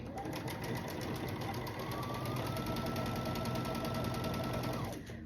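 A sewing machine runs in one steady continuous burst for about five seconds, stitching a 1/4 inch seam down the side of quilt block units, a constant mechanical whir with fine rapid needle rhythm, close and fairly loud.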